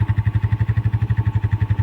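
A homemade potato-planting tractor's small engine chugs close by in a fast, even pulsing rhythm, loud and steady with no voices over it.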